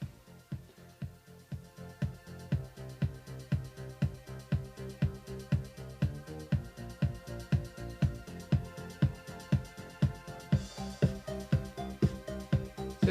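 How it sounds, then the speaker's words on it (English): A synth-pop track playing from Ableton Live with Arturia synth plugins, a steady pulsing kick beat under layered synth chords and melody, moderately quiet and continuous with no voices. "So it's quite a synth poppy tune"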